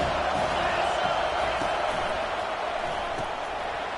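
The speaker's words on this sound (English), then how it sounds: "Decibels rising as the crowd gets behind this defense on 3rd down." A football stadium crowd at Miami roars during a third-down defensive play, a thick, continuous wash of noise that holds steady and eases slightly toward the end.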